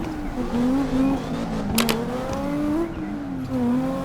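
A Chevrolet Camaro drifting with the handbrake in CarX Drift, engine revving up and down with tire squeal rising and falling, close and steady, plus a brief sharp burst in the middle.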